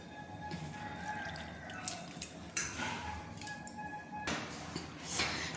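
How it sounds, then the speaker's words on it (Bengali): Rinse water being poured off washed flattened rice (chire) in a kitchen, heard as faint splashing and trickling with a few small clinks of a pot, ending in a louder, close pour. "দেখুন আমি 3-4বার চটকে জল দিয়ে ধুয়ে আমি পরিষ্কার করে জলটাকে একদম আমি ফেলে দিচ্ছি"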